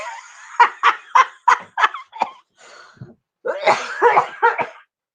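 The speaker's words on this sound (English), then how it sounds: "I coughed into my elbow." A series of sharp coughs comes in a quick burst of about six, close and loud, followed by more coughing mixed with vocal sounds.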